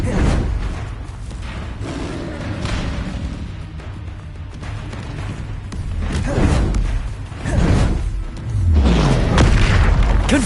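Repeated Confringo spell explosions in Hogwarts Legacy, loud booming blasts and thuds in an ongoing battle, with several swelling impacts and rumbling bursts over the span.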